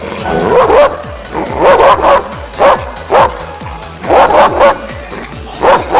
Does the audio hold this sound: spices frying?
no